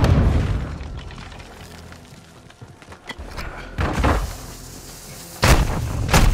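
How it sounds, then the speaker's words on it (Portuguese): Grenade explosions in Call of Duty: Modern Warfare II boom in several heavy bursts, the loudest near the end, over a low, rumbling game soundscape with no voices. "Tá até lançando granada já."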